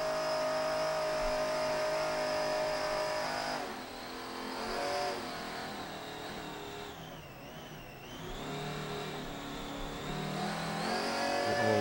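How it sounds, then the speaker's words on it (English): Class 2 offshore racing powerboat Extreme on the St. Clair River in Michigan, its supercharger blower giving a loud, steady engine drone with a high whine as it races past, swelling and dipping as it goes by. "You can hear that blower humming along as they go by the Class 2 entry of Extreme."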